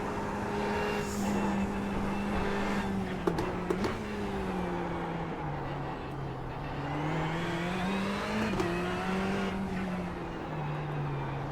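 Ferrari GT3 race car engine roars continuously at Winton in iRacing, its pitch rising and falling through gear changes and corners, loud and steady throughout with no talk.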